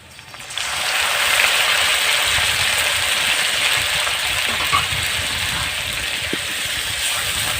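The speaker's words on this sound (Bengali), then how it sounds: "পেঁয়াজটা ভাজা হয়ে গেছে, তাহলে লাউ পাতার পেস্টটা দিয়ে দেবো।" Bottle gourd leaf paste hits a pan of fried onion and garlic and sizzles loud and steady, a broad hiss that starts abruptly and holds with a few faint clicks.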